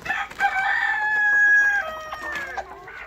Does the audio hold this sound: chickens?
yes